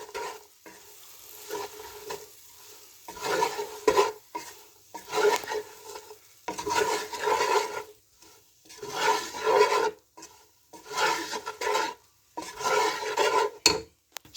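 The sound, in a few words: tossing boiled pasta with softened onions in a pan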